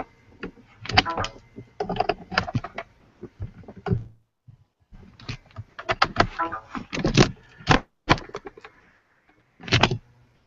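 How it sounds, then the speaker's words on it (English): Bursts of rapid clicky computer keyboard typing from a participant in an online video call, in short runs with pauses, fairly close and clear. "one of the three of you are on a keyboard? I can hear that."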